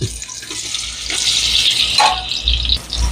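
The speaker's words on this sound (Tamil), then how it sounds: "இப்போ ஆயில் சேர்த்துக்குவோம் இப்போ வெங்காயம் சேர்த்துக்கிறோம்" Chopped onions hit hot oil in a pan for Chennai-style chutney, giving a steady, close hiss and crackle with a few brief bursts of sizzle and no talk.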